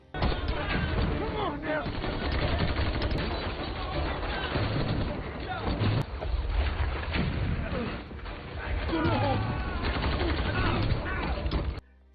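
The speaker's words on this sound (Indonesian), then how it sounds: "tak diduga baku tembak pun akhirnya terjadi" Gunfire rattles through a film shootout, with dense, continuous volleys and booming blasts mixed with other action noise, loud and sustained throughout.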